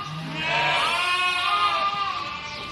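Yearling sheep, likely pregnant, bleat together in a pen, several overlapping calls forming a loud, continuous chorus close by.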